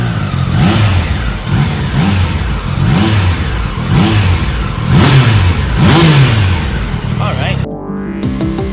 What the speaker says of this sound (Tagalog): Grado sa sound check, underbelly exhaust, Triumph Daytona 660.